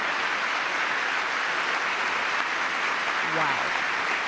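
Sustained applause from a large audience in a chamber during a State of the Union address, a dense steady wash of clapping with a brief voice rising underneath near the end.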